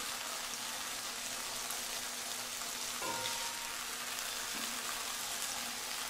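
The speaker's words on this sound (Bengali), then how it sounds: "এখন বেগুনগুলোও নেড়ে চেড়ে ভেজে নিব" Eggplant pieces fry in hot oil, making a faint, even crackle and sizzle with scattered small pops that holds steady throughout and has no talk over it.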